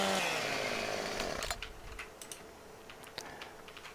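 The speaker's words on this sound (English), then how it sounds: "Have to do a little dance with the chainsaw to get this to find the hit point." A chainsaw cuts wood in Farming Simulator 17, roaring loud and steady for about a second and a half before dropping away to faint scattered clicks and ticks.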